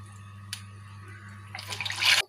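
Water pours into a cooking pan with a cup of sugar, a short splashing, gurgling rush rising near the end over a quiet kitchen hum.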